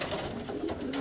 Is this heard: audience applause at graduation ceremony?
no